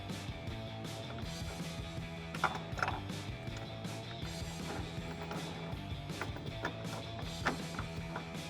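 Bolts being tightened on a Rough Country low-profile hard tri-fold tonneau cover on a Jeep Gladiator JT pickup bed, heard as continuous close mechanical ratcheting and creaking clicks with a few sharper knocks, no talking.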